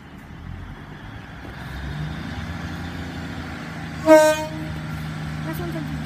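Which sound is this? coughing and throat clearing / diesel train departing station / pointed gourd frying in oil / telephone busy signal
diesel train departing station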